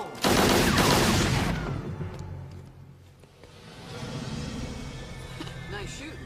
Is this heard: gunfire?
yes